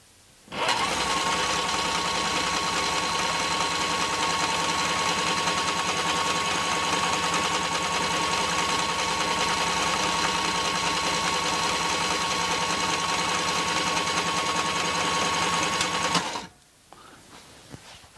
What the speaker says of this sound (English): And now you're ready to wind bobbins.